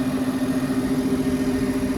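A sprayer's 218-horsepower six-cylinder Deutz diesel engine idling, a steady close drone with a strong even hum and no change in pitch, alone without talk.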